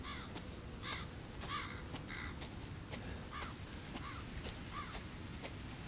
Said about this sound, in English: I hear crows. Crows are never a good sign in Resident Evil.